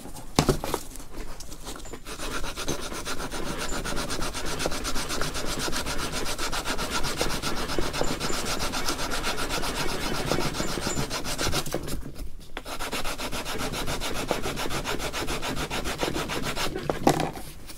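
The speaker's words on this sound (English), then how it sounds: "I could shave it off with the sandpaper." Steady, close scraping of sandpaper worked by hand across a fiberglass dashboard being repaired, continuous rasping strokes with two brief pauses, no voices.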